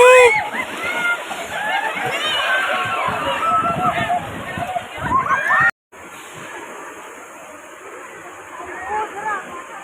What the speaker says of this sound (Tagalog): Ang laki ng alon dito, guys.